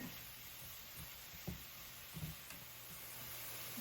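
Eight ounces of sliced mushrooms sautéing with onions in a pan, a quiet steady sizzle with a few soft stirring scrapes and bumps, no voices.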